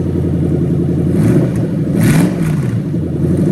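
A Toyota 1UZ-FE V8 engine in a Lexus IS200 idles steadily, then a short rev rises and falls around the middle, close by and loud, with no talking.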